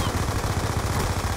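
Rapid automatic gunfire in the Call of Duty: Black Ops 2 multiplayer video game, a dense continuous rattle of shots fired from the hip, loud and steady through the short burst.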